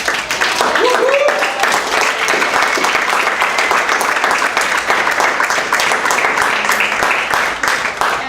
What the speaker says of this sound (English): Let's have a big round of applause for your new board.